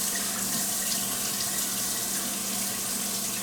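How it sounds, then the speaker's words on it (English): Hot water runs steadily from a kitchen tap during risotto cooking, a constant close hiss of flowing water that holds even for the whole stretch with no talking. "Alright, we got some hot water here."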